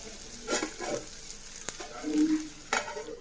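Taro roots frying in a pan with coriander powder, cumin powder and salt, a soft sizzle broken by a few stirring scrapes and one sharp utensil knock, no talk.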